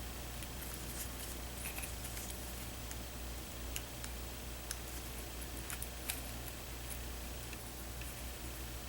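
Scissors trim a wrinkled piece around knobs on a model of the starship Enterprise from Into Darkness, quiet sparse snips and small ticks over a constant low background hum, with no talking.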